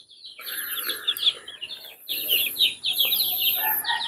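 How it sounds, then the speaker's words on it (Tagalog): Chickens cluck and chirp close by in short, overlapping bursts, with a few higher peeps mixed in and quiet background rustle. "Safe na safe ang mga alaga natin, mga manok dito."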